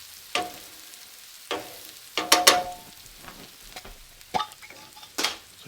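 Bacon and frittata ingredients are spread around a hot skillet, giving quiet sizzling broken by several short scraping and stirring bursts at uneven intervals.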